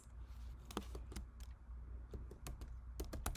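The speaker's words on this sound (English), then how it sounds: "And now I'm going to type out my sentence." Quiet, irregular keystrokes on a computer keyboard tap close by over a low background hum, with scattered clicks and short pauses.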